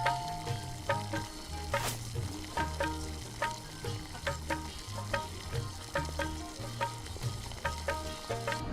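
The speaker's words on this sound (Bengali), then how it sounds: "গুড় ও মশলার সাথে ভালোভাবে মিশে যাওয়ার জন্য কুলকে ভালোভাবে পিষে নিন।" Jujube pickle cooking with jaggery and spices in a pan, a steady sizzle with regular rhythmic stirring and mashing strokes repeating about once a second, heard over light background music.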